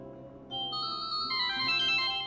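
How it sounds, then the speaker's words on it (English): A mobile phone ringtone plays in a video game set in 15th-century Florence: a bright electronic melody of sustained tones that builds and grows fuller over about two seconds, clear and fairly loud. "I could give the residents a little taste of the future with one of the ringtones."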